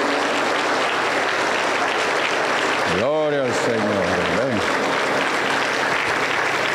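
A Pentecostal church congregation in Junín, Peru, applauds in a steady, loud wash of clapping, while a voice speaks briefly over it midway.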